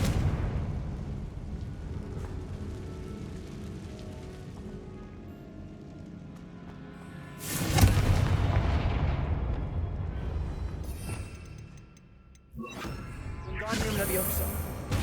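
A Confringo fire-blast spell erupts in Hogwarts Legacy, a loud explosive burst with a rumbling tail, followed by another blast after a brief quieter gap, over background game sound and speech.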